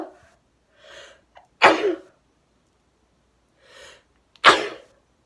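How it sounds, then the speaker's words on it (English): Two sharp, loud sneezes about three seconds apart, each preceded by a faint breathy inhale, from a woman who keeps sneezing after coming home; no talk in between. "I really feel like I'm gonna sneeze right now."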